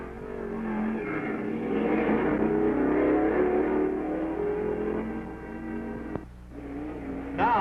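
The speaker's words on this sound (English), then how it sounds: "The first, Jack Moss's twin-engine dragster." A twin-engine dragster at an NHRA drag race roars steadily as it accelerates, a loud, sustained engine sound that fades somewhat near the end.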